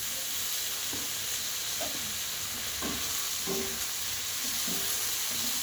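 Onion and green chillies fry in oil in a pan after potatoes, a soft steady sizzle with occasional stirring scrapes and clinks, close and fairly quiet, with no talking.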